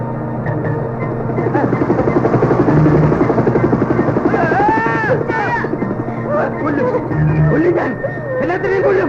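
In a Malayalam comedy film scene, a helicopter's rotor whirs with a steady throbbing drone while people talk over it. Bursts of sound effects and music cut in partway through.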